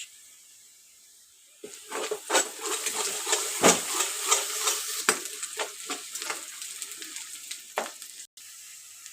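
Ginger garlic paste and turmeric fry in a hot pan, a steady sizzle with repeated scraping stirs, starting after a quiet opening and running on alone with no voices.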